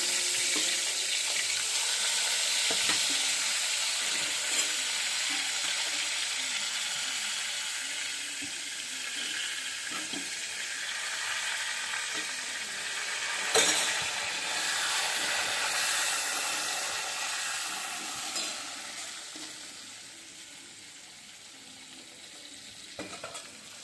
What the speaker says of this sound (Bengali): লবণ আর হলুদ মেখে নিয়েছিলাম এখন ভেজে নিই